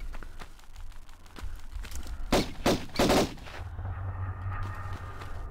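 Gunfire from the MS-DOS PC game Tomb Raider: a quick run of sharp, loud shots in a cluster over a steady low game background hum.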